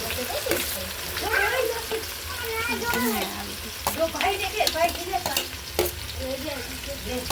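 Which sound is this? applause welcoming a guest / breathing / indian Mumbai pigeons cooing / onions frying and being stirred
onions frying and being stirred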